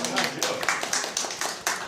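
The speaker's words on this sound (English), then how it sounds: "I think a round of applause." A small group gives a brief round of applause beside a 161-foot-deep well, about nine sharp claps with irregular spacing, under and between spoken voices.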